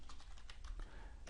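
Rapid clicking keystrokes on a computer keyboard while a value is entered into Alpha Five V12 database software, a quick uneven run of faint, close taps over a quiet room hum.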